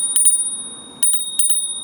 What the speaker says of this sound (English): It's a pretty loud bell too.